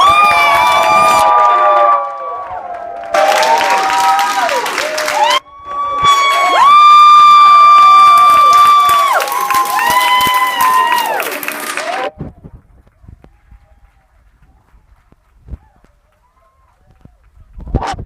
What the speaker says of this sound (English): Give a big round of applause for Hector